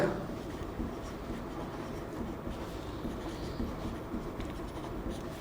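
Chalk or marker scratching across a board during a Hindi-language Class 12 chemistry lesson on the solid state, a steady soft scraping that runs continuously and fairly quietly with no talking over it.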